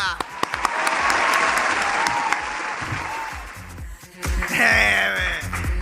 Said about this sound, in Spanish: Fuerte el aplauso para Nicola.